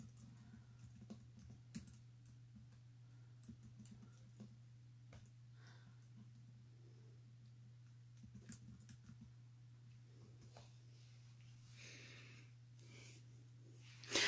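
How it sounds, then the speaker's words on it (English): Quiet typing on a computer keyboard, with faint, scattered key clicks and occasional brief bursts over a steady low electrical hum, ending in a slightly louder clatter; no one speaks. "I'm just going to get my store typed in here really quickly"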